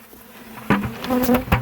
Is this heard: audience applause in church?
no